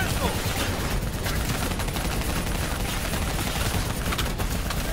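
Dense, continuous gunfire from Call of Duty 4: Modern Warfare during an assault on a VTOL and an APC, with bursts and rapid shots blending into a loud, unbroken barrage and shouted voices mixed in.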